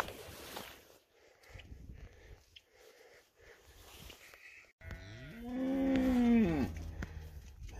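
Cattle lowing, a heifer and her calf: quiet snorts and breathing at first, then one loud, drawn-out moo swelling near the microphone in the final seconds.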